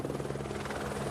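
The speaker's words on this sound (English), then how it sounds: "When a helicopter arrives at base camp, it means a person is in need of immediate evacuation." A helicopter at Everest base camp, its rotor chop steady, loud and close throughout, with a deep pulsing drone and no voices.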